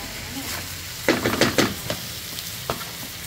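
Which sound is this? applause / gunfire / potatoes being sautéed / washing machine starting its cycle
potatoes being sautéed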